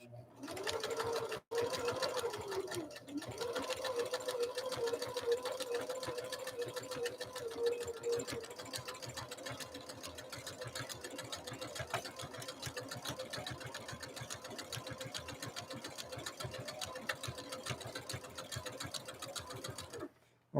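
A Husqvarna Viking sewing machine runs a stretch straight stitch, its needle chattering in a fast, steady rhythm close by for about twenty seconds after a brief start and pause.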